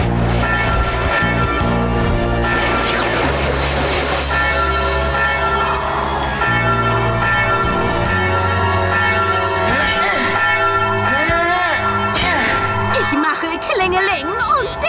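A bell rings in a tower in a PAW Patrol cartoon, with repeated clanging tones mixed under busy music, sound effects and characters talking throughout.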